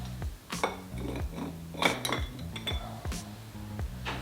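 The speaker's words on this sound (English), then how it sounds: "We're gonna go ahead and drop our ice in there now." Ice cubes drop into a cocktail glass one after another, bright clinking knocks spread across a few seconds, close and clear with no talking.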